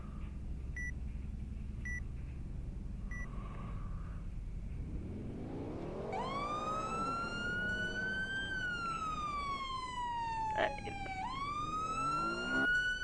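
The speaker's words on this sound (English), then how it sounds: "this one, on the other hand, has way more realistic sirens" A Roblox police car siren, set up as a West Virginia State Police cruiser, wails loudly and steadily, sweeping up and down in long rising and falling cycles after a few faint beeps, with no talk over it.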